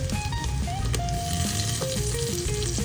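Green chillies sizzle in hot oil with ginger-garlic paste for a Kerala-style mutton curry, a loud steady frying hiss with a faint tonal whine running through it.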